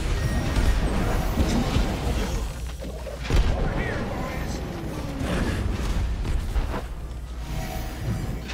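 Gunfire in a metal-themed competitive video game match, several sharp shots crackling in quick bursts over dense, continuous game noise and explosions, loud and close throughout.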